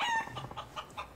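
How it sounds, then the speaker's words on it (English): A chicken in the video game Yakuza 5 gives a short burst of loud, close clucks and squawks, several quick calls in a row. "What the heck's a chicken doing here?"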